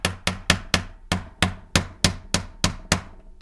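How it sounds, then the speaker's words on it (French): A mallet or small hammer taps a bicycle freewheel body about a dozen times in a steady, even rhythm, each hit a sharp, close metallic knock with a short ring. "après vous prenez un maillet ou un petit marteau, mais vous tapez pas trop fort pour rien casser"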